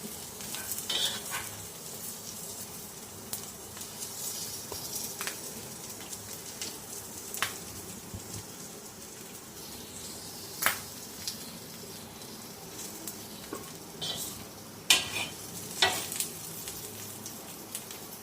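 A dabeli bun roasts in oil on a pan until crisp, giving a faint, low sizzle. Sporadic sharp clicks and scrapes from pressing and moving it punctuate the quiet frying over about eighteen seconds.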